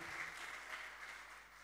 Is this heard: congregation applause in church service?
yes